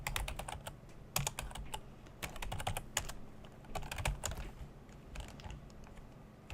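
Commands are typed on a Commodore 64 keyboard in quick, irregular bursts of crisp key clacks, close and clear over a quiet background, with no one speaking.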